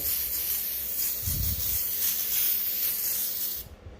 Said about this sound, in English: grab a brake cleaner and I'm just going to spray